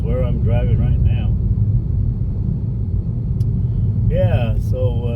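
Steady low rumble of a car driving along a major street toward a housing area, constant road and engine noise from inside the vehicle, with someone talking over it at the start and end.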